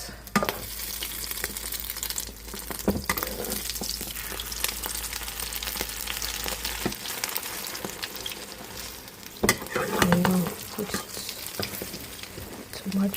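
Eggs fry in a hot pan with a steady close sizzle and crackle, broken by stirring and scraping sounds, with a louder burst near the end.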